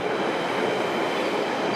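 A London Underground tube train at Roding Valley station gives a steady, close rumble of rolling carriages with no break.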